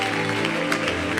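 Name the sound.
congregation applauding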